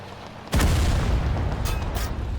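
A vehicle-mounted gun firing in the video game Total Conflict: Resistance, a sudden loud boom that opens into a sustained rumbling roar of continuous fire with a few sharper reports layered on top.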